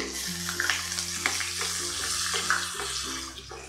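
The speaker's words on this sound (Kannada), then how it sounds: "ಈರುಳ್ಳಿ ಬೆಳ್ಳುಳ್ಳಿನ ಚೆನ್ನಾಗಿ ಫ್ರೈ ಮಾಡ್ಕೊಳ್ಳೋಣ" Onion and garlic frying in hot oil with asafoetida and mustard seeds for a jackfruit seed sambar, a steady close sizzle with faint stirring scrapes, no voices.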